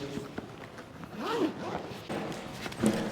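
Zipper drawn across a heavy-duty 600D fabric sandpaper storage bag, a close, quick rasping pull with a second short zip near the end.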